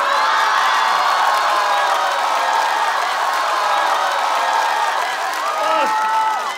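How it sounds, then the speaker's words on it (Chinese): An audience at a Chinese stand-up comedy show breaks into sustained applause and cheering, a dense, loud wash of clapping and shouts that holds steady throughout with only slight swells. "掌声！"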